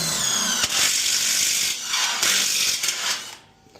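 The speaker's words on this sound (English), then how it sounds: "we're gonna drill a hole in the flue piping, approximately 6 inches off the top of the boiler" A power drill whines as it bores a hole into metal boiler flue piping about six inches above a Burnham boiler, a close, high-pitched grinding with a few small knocks before it winds down and stops.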